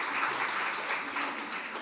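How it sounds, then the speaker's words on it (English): Short burst of audience applause at a panel event on food systems finance, a dense patter of clapping from a moderate-sized crowd, fairly soft and steady for under two seconds. "Round of applause for Megan, please"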